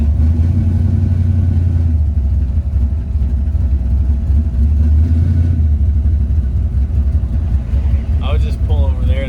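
A car drives over a dirt road, its steady engine rumble and road noise loud and continuous throughout, with a brief voice near the end.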